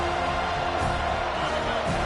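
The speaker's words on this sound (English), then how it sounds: "Decibels rising as the crowd gets behind this defense on third down." A stadium crowd roars steadily and loudly as a home defense faces third down in a college football game, the noise swelling with cheers and whoops.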